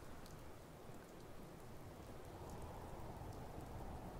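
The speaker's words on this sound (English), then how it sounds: "in the gentle patter of rain." Gentle rain in the Fallout 4 video game falls steadily at night, a soft even patter with no thunder and no voices.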